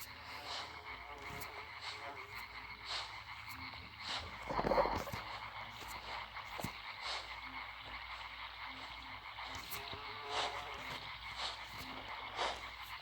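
Frogs croak repeatedly in a quiet ambient scene in the video game Limbo, short rhythmic calls over a low background hum, with one louder burst midway.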